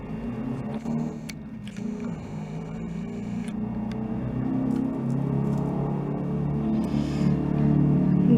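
Steady city-centre street traffic rumbles through the whole stretch, a low continuous wash that swells slightly toward the end, with small clicks and rustles close by and no one speaking.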